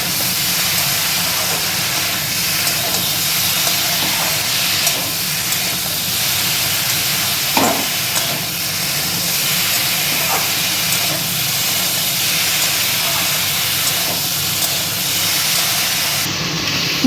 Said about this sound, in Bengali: এবার আমি এর মধ্যে ঝিঙেগুলোকে দিয়ে দেবো। দিয়ে সব কিছু আমি আর একবার ভালো করে কষিয়ে নেব।